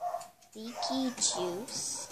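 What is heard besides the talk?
puppy barking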